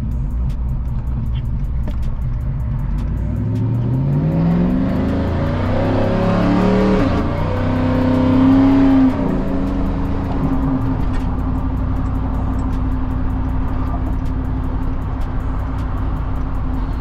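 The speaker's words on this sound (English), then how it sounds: "Trying to wait on this traffic to clear." Steady road traffic with cars revving and passing close by, one louder vehicle accelerating past in the middle over a constant low engine rumble, no talking.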